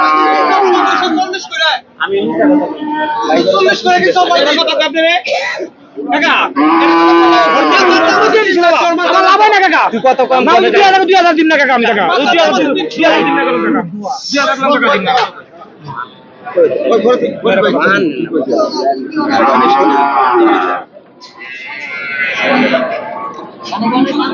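Friesian dairy cows at a busy cattle market, moos mixed with constant nearby talking and crowd chatter.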